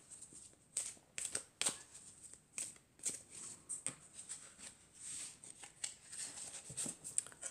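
Archangel Michael oracle cards being shuffled and drawn, giving repeated crisp riffling flicks and soft slaps in an uneven rhythm, close and fairly quiet, with no talking.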